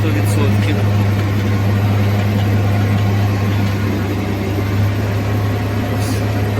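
A heavy tractor engine working at full load while pulling through a field, a loud, constant low drone with a strong steady hum, continuing unbroken with a voice talking over it.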